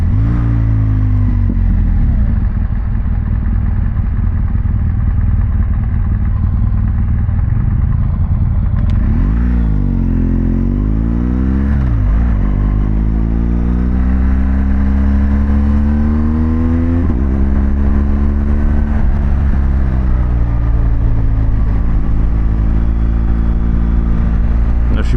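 A BMW GS Adventure motorcycle on the road, its engine droning steadily up close and then revving through several rising and falling surges of acceleration, with no voices.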